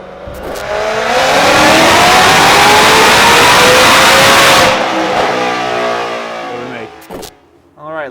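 A supercharged 2018 Ford Mustang GT running E85 with over 20 psi of boost roars through a chassis dyno pull, engine pitch climbing steadily and loud for about four seconds before backing off and settling to idle, with brief voices near the end.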